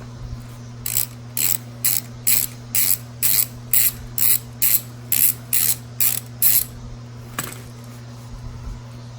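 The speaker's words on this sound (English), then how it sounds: "we're going to go ahead and loosen up this bolt right here" A ratchet wrench loosening a bolt on a Honda CBR1000RR rear brake, about fourteen quick evenly spaced clicking bursts in a row, close and crisp, over a steady low hum, with no talking.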